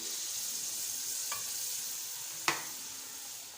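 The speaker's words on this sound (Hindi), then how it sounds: "मसाले की अच्छी तरह बुनाई करेंगे।" Masala fried and stirred in a pan for aloo palak, with a steady sizzle and two soft scrapes of the spoon, one sharper clack near the end, no talking.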